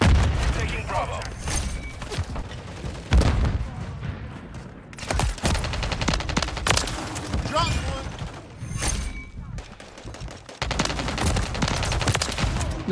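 Gunfire in the video game Modern Warfare 3: loud bursts of rapid automatic fire and booming single shots, broken by brief pauses, with voices heard between the volleys.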